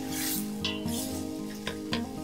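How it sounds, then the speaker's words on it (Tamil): Onions and tomatoes sizzling and frying in a pan with occasional stirring scrapes and light clinks, steady and close, with no talking. "இப்போ இந்த வெங்காயம் தக்காளி நல்லா வதங்கி வரட்டும்."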